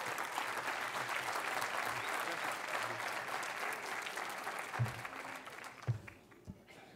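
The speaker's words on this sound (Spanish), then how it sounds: "El aplauso para recibirlo" Audience applause welcoming the speaker Jorge Giacobbe at the CRA 2013 congress: dense, steady clapping from a large crowd that holds for several seconds, then thins out into a few scattered, louder individual claps near the end.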